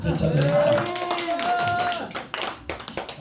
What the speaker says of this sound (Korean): 박수 좀 쳐드려